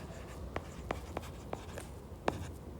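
Marker strokes on a board as numbers are written for an arithmetic progression lesson: several short, sharp squeaky taps spaced unevenly, close and fairly quiet over a faint room hiss, with no voice.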